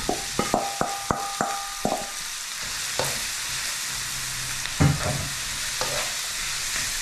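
Meat hits a hot pan and sizzles steadily, with a clatter of spatula scrapes and taps on the metal at the start and occasional stirring knocks over the continuous frying hiss.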